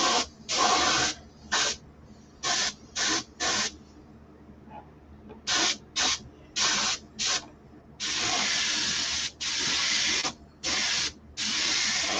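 Spray gun applying a third colour coat of paint. Bursts of hissing spray come close and loud, short puffs first, then longer sustained blasts separated by brief pauses.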